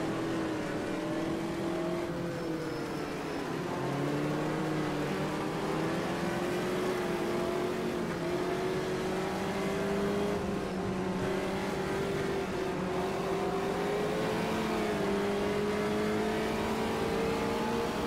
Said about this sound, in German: wie das Getriebe und der Motor dann so runtergehen vom Sound her.